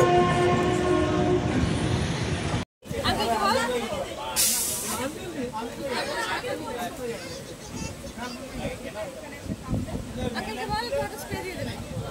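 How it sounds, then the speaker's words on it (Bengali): The 13053 Howrah–Radhikapur Kulik Express pulling out of Howrah station, a steady rumble and hiss of rolling carriages heard from on board, with a brief horn-like burst and people talking throughout. "হাওড়া স্টেশন ছেড়ে বেরোলো আমাদের 13053 হাওড়া রাধিকাপুর কুলিক এক্সপ্রেস।"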